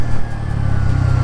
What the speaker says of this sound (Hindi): ये देखो ब्रेकिंग।